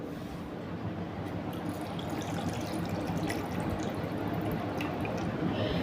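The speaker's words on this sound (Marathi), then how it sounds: "यामध्ये आपण पाणी घालायचं आहे" Water pours steadily onto curd in a container, a continuous soft splashing and trickling that stays even and close throughout.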